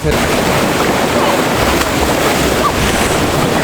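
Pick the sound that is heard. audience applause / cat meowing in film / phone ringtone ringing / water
water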